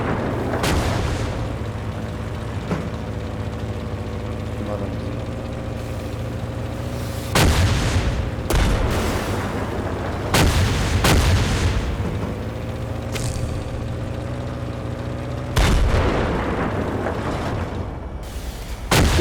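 Tank cannon fire and explosions in the video game Poly Squad land as several loud, booming blasts spaced a few seconds apart over a steady engine drone and rumble, with a few fainter distant shots between them.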